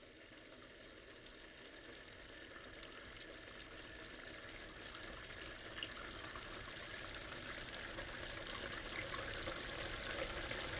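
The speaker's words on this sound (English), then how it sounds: "We want to fill the basin at least halfway full." Water runs steadily into a basin being filled for a patient's catheter-care wash, a faint, even stream with no talking that grows slightly louder as the basin fills.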